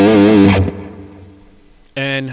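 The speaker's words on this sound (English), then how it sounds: "So it's just a simple room reverb." An electric guitar played through a Boss Katana MK2 amp with a heavy, distorted tone and a simple room reverb: a loud sustained chord decays away, then another is struck.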